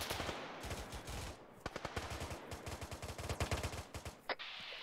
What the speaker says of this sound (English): We're taking fire northeast.